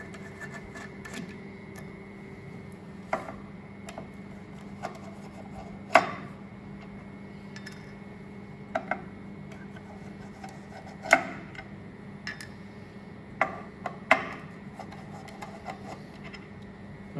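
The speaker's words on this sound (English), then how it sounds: "To start with, you have to remove all of the grease caps. There are 5 per lane, and they just unscrew with a large screwdriver." A large screwdriver unscrews grease caps on a machine, giving sparse sharp metallic clicks and scrapes, some louder than others, over a steady low hum.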